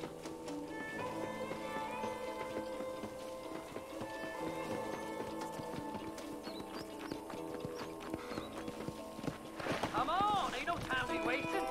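Steady clip-clop of horse hooves in Red Dead Redemption 2 runs under game music and talk, with a brief whinny-like burst near the end.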